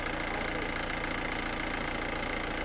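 An engine idles steadily after an oil change, a constant close mechanical hum with a faint rhythmic knock running evenly throughout with no talking.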